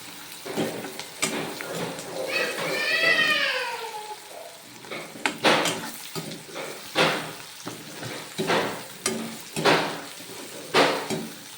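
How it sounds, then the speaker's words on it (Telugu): Spring onions frying in a pan for a spring onion curry: crackling sizzle broken by repeated sharp stirring scrapes in an uneven rhythm, with a brief high wavering cat-like cry early on. "చూడండి ఎలా ఫ్రై అవుతుంది"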